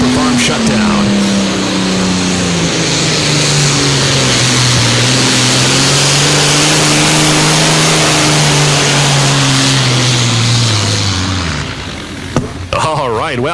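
The Super Farms test pulling tractor, with 2,000 pounds added to the weight box, roars loudly at the 2023 Farley Nationals, 300 Raceway in Farley, Iowa, holding a sustained revving drone that wavers in pitch, then cuts off near the end.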